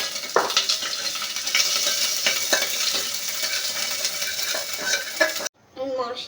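Crushed chili and ginger paste fries in a pan and is stirred, giving a continuous sizzle with repeated scraping strokes. A brief clatter near the end breaks the sound, and no one speaks.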